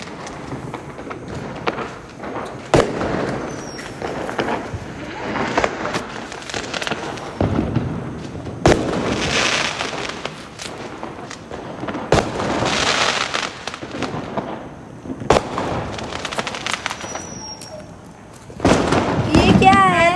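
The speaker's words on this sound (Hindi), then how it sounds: "पटाखे फोड़ रहे हैं" Diwali firecrackers burst repeatedly, sharp bangs and crackling at irregular intervals, some near and loud, with fizzing and whistling bursts near the end while children and family members talk and shout throughout.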